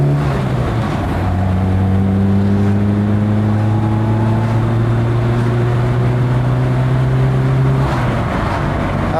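Lada Riva Estate VAZ 2104 accelerating on the road, a loud, close engine whose steady droning note climbs in pitch as it pulls through the gear and drops near the end.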